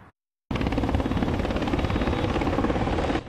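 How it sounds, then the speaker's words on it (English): Loud helicopter rotor noise chops steadily after a brief silence, continuous thumping whir close by, helicopters landing in the middle of downtown Los Angeles. "Helicopters landed in the middle of the city"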